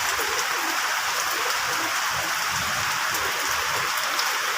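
Rain falling steadily on a pigeon loft, a dense, even hiss of drops on the roof and surroundings, close and continuous with no talk.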